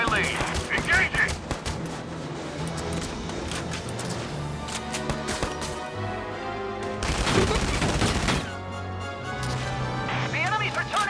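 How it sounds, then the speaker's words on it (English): Enemy gunfire in Valkyria Chronicles 4 rattles in dense bursts of rapid shots, with a louder volley near the middle, while game voices call out over the battle. "The enemy's returning fire!"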